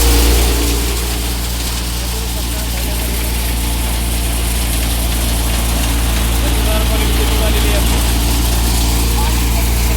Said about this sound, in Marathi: त्याच्यामध्ये आपले शेतकरी दादा हे तूर टाकत आहेत पेंड्या